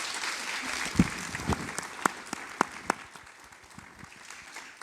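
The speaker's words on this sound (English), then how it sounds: "can we conclude with a big applause from all colleagues?" Colleagues applaud at the close of a conference session on European partnerships: a steady, moderate wash of clapping from a seated room, with a few sharper individual claps standing out, continuing for about five seconds.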